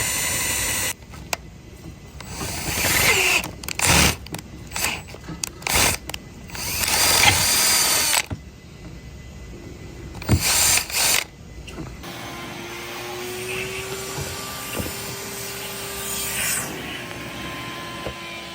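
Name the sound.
drilling into a B58 billet manifold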